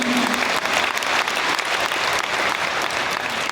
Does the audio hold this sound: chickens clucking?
no